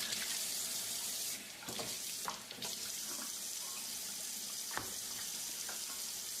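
Water runs steadily from a tap in a continuous hiss, with a few brief clunks and splashes as a pot is rinsed beneath it.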